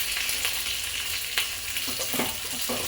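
Onions, garlic and curry leaves fry in a hot tempering for dal, giving a steady close crackling sizzle with a few louder pops and stirring scrapes throughout.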